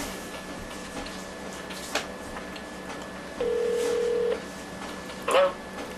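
A telephone keypad sends a few short dialing tones, followed by a sustained steady tone and a brief burst at the end, with faint room noise underneath.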